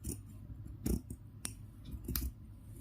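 Scissors cut cloth for a Laddu Gopal dress: a few crisp, close snips spaced irregularly, with quiet rustling between cuts.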